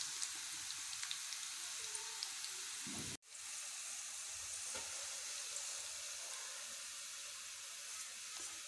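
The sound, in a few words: hot desi ghee tadka sizzling, added to mustard greens saag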